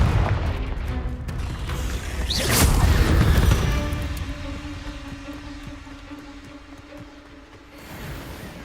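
Confringo blasting spell in Hogwarts Legacy, a single booming explosion around the middle of the clip over a rumbling, clattering combat backdrop that fades into a low hum.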